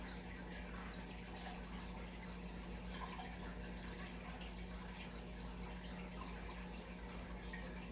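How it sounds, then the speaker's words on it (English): Liquid poured slowly down the middle of a jar for a kindergarten rainbow-in-a-jar experiment, a continuous steady stream that fills the whole stretch, heard over a constant background hum with no speech. "I have to be careful to pour this directly into our jar, right down the middle"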